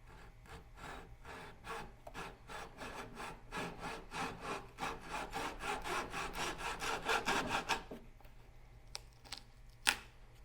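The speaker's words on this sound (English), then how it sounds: "I'm going to use a hacksaw just to trim off that last little bit." A hacksaw cuts a small piece of wood in quick, even back-and-forth strokes for about eight seconds, close and clear. Then it stops, followed by a single sharp knock.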